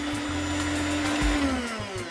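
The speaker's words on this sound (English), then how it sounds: "then we finish mixing our batter" An electric mixer whirs steadily through Jamaican Christmas fruit cake batter with lime juice, a close, continuous motor hum that sags slightly in pitch as it works, with no talking.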